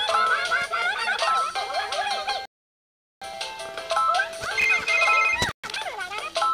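In the Vlogger Go Viral video game, a phone ringtone plays as a bright, repeating melodic jingle, loud and close, broken by a few short gaps of silence.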